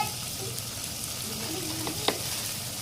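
Masala chili powder sizzles in a frying pan for a rice dish as a spoon stirs it, giving a steady frying hiss with a single sharper scrape of the spoon.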